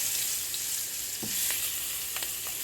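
Vegetarian fried rice ingredients with peppers and onions sizzle steadily in a hot pan, a continuous close frying hiss with a few brief stirring scrapes and clicks.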